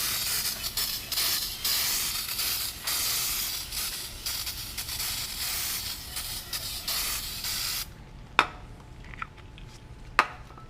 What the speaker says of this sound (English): now I'm just going to get some brake cleaner and clean the differential cover